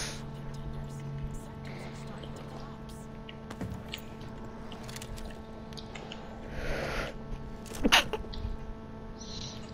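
A single sharp sneeze bursts out near the eight-second mark during a late-night Hyper Scape gaming session, standing out over steady background hum and faint room noise.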